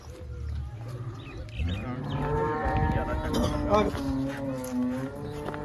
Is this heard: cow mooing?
yes